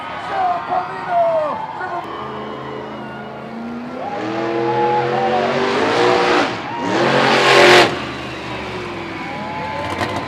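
A 1,500-horsepower monster truck called Shell Camino roars and revs loudly at a fair show, rising and falling with bursts of acceleration, under a loud announcer voice and crowd noise.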